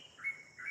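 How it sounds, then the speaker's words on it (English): Birds chirping outdoors, faint high, thin calls repeating twice in short bursts over quiet background, no voices. "those birds sound nice."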